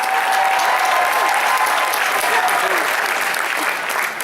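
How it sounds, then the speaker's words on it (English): A large crowd at a Texas GOP election night victory party bursts into loud, sustained applause, dense clapping and cheers filling the room evenly without a break. "Let's give him a huge, huge round of applause."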